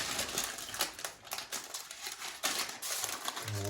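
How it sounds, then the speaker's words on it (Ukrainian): Parchment paper crinkles and rustles closely as it is wrapped around a meat roll with prunes, giving a run of crisp, crackling bursts. "Загортаємо пергамент."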